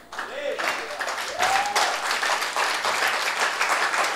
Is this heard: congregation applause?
yes